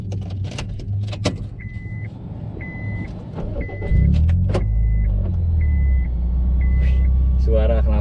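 A 2012 Honda Freed engine turns over and catches partway through, settling into a steady, close, low exhaust rumble at idle, after a run of evenly spaced electronic chime beeps.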